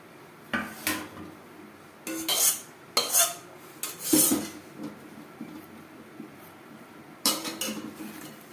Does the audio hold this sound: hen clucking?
no